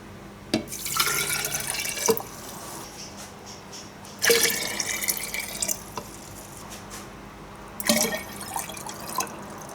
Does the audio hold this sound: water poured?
yes